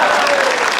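Audience applause fills a Hindi-speaking government event attended by the chief minister, a dense, steady burst of clapping from a crowd that stays loud and close throughout the brief moment.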